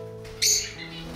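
A parrot defending its nest gives a single loud, harsh call, brief and close, over a steady low background hum.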